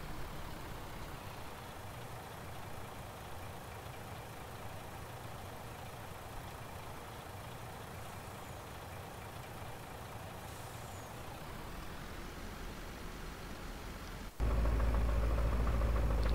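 Truck engine idling in the farming game Landwirtschafts-Simulator 19, a steady low rumble running continuously and alone, with a louder shift near the end.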